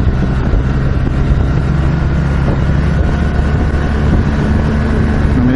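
A 2016 BMW R 1200 GS Adventure motorcycle decelerates under engine braking off the throttle in a high gear at Laguna Seca, a continuous low engine rumble mixed with heavy wind rush.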